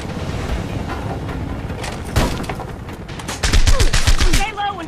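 Homefront video game combat with irregular bursts of rifle gunfire and impacts in a firefight, some loud and close, with shouted voices mixed in among the shots.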